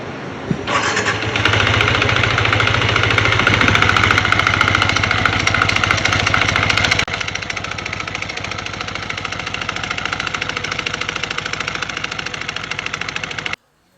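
A Yamaha R15 V3 motorcycle engine running with its clutch at work, a loud close mechanical rattle and hum that holds steady, then drops to a lower level about halfway through before cutting off.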